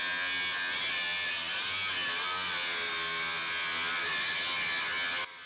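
A Ryobi HP angle grinder cutting through steel, a loud continuous high-pitched whine and buzzing hiss under strain, steady throughout and close, with no talk.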